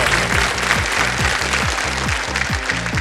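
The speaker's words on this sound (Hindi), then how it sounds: "ताली बज गई पहले से" A studio audience on the quiz show Kaun Banega Crorepati claps loudly and continuously throughout, with a low rhythmic musical beat pulsing underneath.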